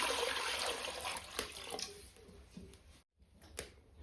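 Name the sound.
water being poured into a pot for boiling potatoes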